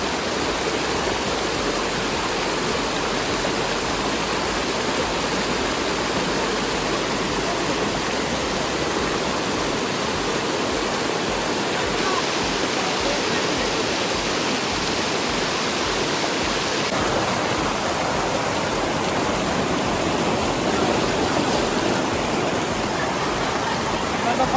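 A steady, unbroken rush of falling water comes from the Khong Thom Nuea hot stream waterfall, a natural mineral-rich bathing spot with lukewarm water, holding a loud, even roar throughout.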